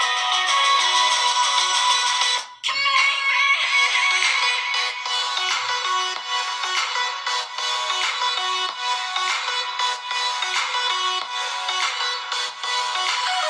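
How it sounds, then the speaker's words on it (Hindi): Bright, melodic ringtone from an HMD Fusion smartphone playing continuously and loudly for over twelve seconds with a brief dip near the start, with no talking over it. "फोन की आवाज कितनी मधुर है वो भी सुनाता हूँ।"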